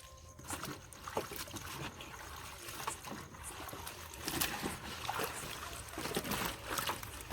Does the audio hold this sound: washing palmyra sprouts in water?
yes